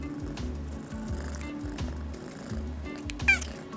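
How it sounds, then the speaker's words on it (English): A low steady hum runs throughout, and a single short, high kitten meow cuts in near the end. "he started meowing in a specific way."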